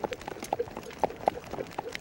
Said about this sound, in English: My dad has a lot of trotting bred ponies